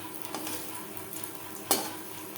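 Bitter gourd leaf fritters fry in a pan, a steady close sizzle with a few stirring sounds and a sharp flare of spattering as one is turned over.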